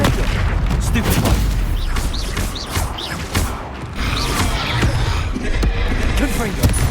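Confringo spell blasts in Hogwarts Legacy, a series of loud, close magical bursts and impacts in rapid succession amid dense, continuous combat noise.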